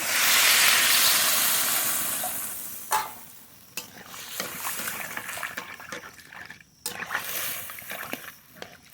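Water gushes into a pan of spiced taro and fried tengra river fish with a loud hissing rush, then fades into bubbling sizzle and repeated scraping stirs with clinks close by.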